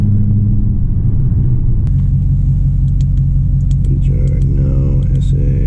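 A Dodge Challenger R/T in Sport Mode Plus gives a loud, steady engine rumble from inside the cabin, with the note rising as it accelerates and someone talking over it.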